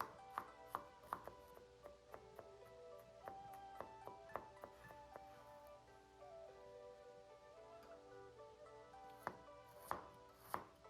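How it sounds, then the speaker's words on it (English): Knife chopping on a board while mincing garlic cloves, a steady series of sharp taps, some in quick bursts, close and fairly quiet with no talking. "Mince 5 to 6 garlic cloves."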